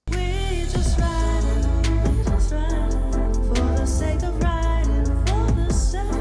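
Chill hip hop from a debut album, with a steady heavy bass and beat under layered melodic synths and keys, loud and continuous with no vocals.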